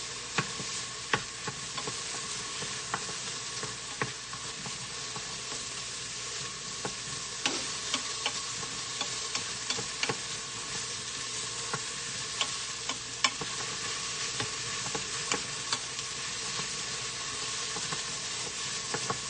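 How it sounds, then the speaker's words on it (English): Red lentil and spinach soup searing in a pressure cooker, a steady close sizzle and steamy hiss with scattered small ticks and pops running throughout. "So you can see it's really steaming good."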